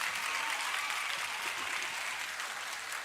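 An audience at a closing ceremony breaks into dense, sustained applause that holds steady at an even level for about three seconds, with no voices standing out above the clapping.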